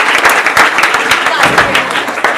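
A school audience at a quiz competition for classes five to seven claps in a dense, loud burst of applause that carries on steadily for the whole moment.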